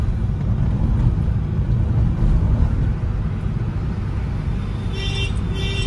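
A car rolls along during a driving lesson near a crossroads, its engine and road noise forming a steady, fairly loud low rumble from inside the cabin, with no speech.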